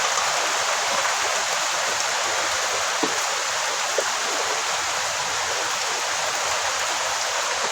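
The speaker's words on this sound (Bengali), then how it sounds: "কি পরিমাণ বৃষ্টি হচ্ছে, পানি এই উঠানে পানি হয়ে গেছে" Heavy rain pours down on a village yard in a dense, loud, unbroken roar, with a few faint knocks in the background and no voices.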